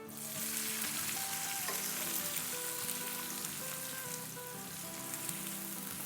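Chopped onions and cumin fry in a pan for a spiced okra dish. A loud, dense sizzle crackles steadily and close by for the whole stretch, with no talking.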